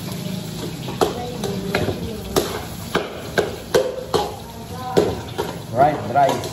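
Fried rice being stir-fried for breakfast, with a utensil scraping and knocking against the pan in irregular strokes over a low sizzle, close up, as a voice talks intermittently.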